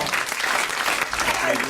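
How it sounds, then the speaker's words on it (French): Brief applause from a studio audience on a French television talk show, a short burst of clapping with voices mixed in underneath. "il applaudit tout le temps"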